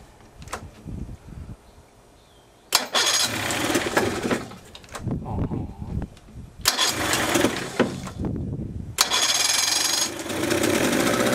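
A lawnmower engine sputters to life after a quiet start, then roars loudly and unevenly, dipping and surging a few times as it keeps running.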